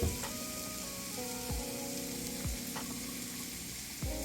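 Bottle gourd leaves with egg and ginger paste fry in a pan, giving a steady, close sizzle broken by a few sharp scrapes and knocks of stirring; no one speaks.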